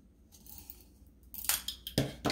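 Scissors snip through a bent plastic drinking straw, two quick, close, sharp cuts following a near-silent start.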